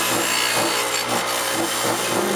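Saw cutting through flat metal bar stock for welded chalet shutter frames, a steady continuous rasping with rhythmic strokes, close and loud throughout.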